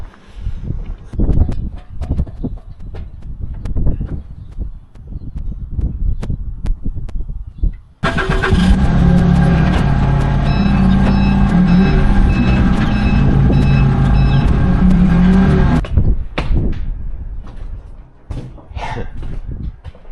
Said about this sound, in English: We're always using this forklift for stuff.